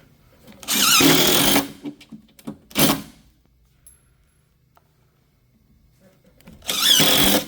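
Two short bursts of a power drill whirring into a maple cabinet to drill shelf holes, followed by a quieter pause and another drill run at the end.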